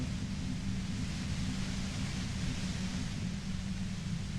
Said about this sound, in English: Your voice trails off into white noise in your head.